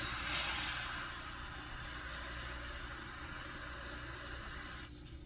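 Held upside down, an aerosol can sprays onto a coin in a steady, soft hiss that runs nearly five seconds close by, then cuts off abruptly near the end.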